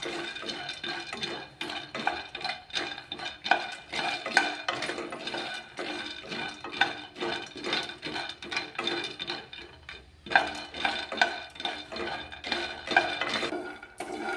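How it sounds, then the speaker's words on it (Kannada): Peanuts dry-roasting in a pan over a low flame, stirred continuously with a spoon scraping and rattling the nuts against the metal in a steady, busy clatter, close by with no voices. "ಇವಾಗ ನೋಡ್ರಿ ಶೇಂಗಾ ನಿಧಾನ ಉರಿಯಲ್ಲಿ ಹುರ್ಕೊಳ್ಳೋಣ"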